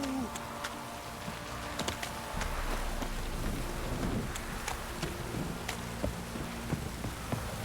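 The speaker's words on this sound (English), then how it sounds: "This downpour's a bastard" Steady heavy downpour hiss fills a scene in The Witcher 3: Wild Hunt, with scattered sharp taps and clicks on top and a faint low rumble underneath.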